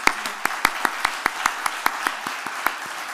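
Audience applause at an award ceremony: a small crowd clapping in loose rhythm, individual claps distinct and fairly close, sustained for a few seconds without talk.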